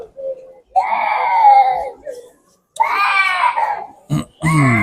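A young girl cries and screams in a narrow old-town lane in Warsaw at Christmas, two long loud wailing bursts close by, then a voice starts talking.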